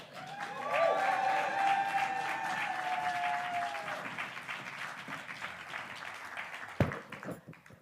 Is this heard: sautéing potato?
no